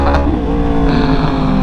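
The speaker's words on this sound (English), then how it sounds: "you can't beat that crossplane sound." A Yamaha R1 motorcycle with a crossplane engine revs loud and close, a steady, rough, throbbing engine roar that holds throughout without any pause.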